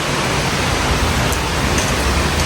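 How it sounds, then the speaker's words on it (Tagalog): Rain falls heavily and steadily during a night storm, a dense, even hiss that fills the whole stretch with no voices. "So yan, umuulan pa din, no?"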